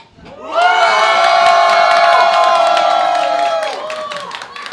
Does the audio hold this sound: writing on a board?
no